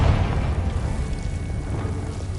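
A Confringo fire spell explosion in Hogwarts Legacy, a loud, dense, rumbling boom that roars steadily throughout and then tapers slightly.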